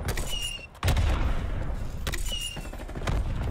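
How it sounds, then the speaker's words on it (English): Video game gunfire cracks out in a few sharp, loud bursts over a constant rumbling background, with short gaps between the shots. "I shot him in the face!"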